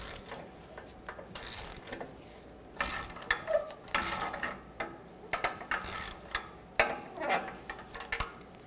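A ratchet snugs exhaust manifold bolts on a 2007-2014 Chevrolet Silverado 2500 HD with a 6.0L V8, giving sharp metallic clicks in irregular bursts with brief pauses and faint clinks of tools between them.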